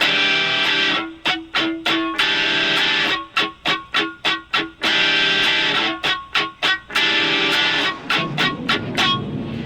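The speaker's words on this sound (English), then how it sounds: "It helps to use a thick pick on this to get that chunky kind of sound." Chunky distorted electric guitar strumming with a thick pick in choppy down-up bursts with sharp muted gaps, loud and close, no talking.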